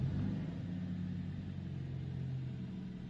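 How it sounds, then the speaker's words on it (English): BMW E90 with the N46 petrol engine, a steady low idle hum running evenly throughout, close and moderately loud, with no distinct start-up crank audible. "start the car"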